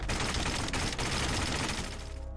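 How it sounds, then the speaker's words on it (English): Suppressed weapon firing in the first-person shooter CROWZ, a dense continuous burst of muffled shots running steadily for a couple of seconds at moderate level, with no voices. "there you can hear what a suppressed weapon sounds like"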